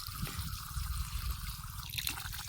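Water gushing from a T-tape drip irrigation pipe at full flow in a coconut grove, a steady close splashing trickle running on without pause.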